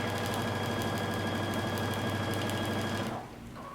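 A sewing machine stitches a seam on a coat from Simplicity pattern 1016, running as a loud, steady rapid whir for about three seconds before stopping abruptly.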